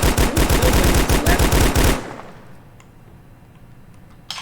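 Rapid automatic fire from an M4 rifle in a Unity-built survival video game, a loud, fast, evenly spaced burst of about a dozen shots lasting two seconds, then quiet with a faint click near the end.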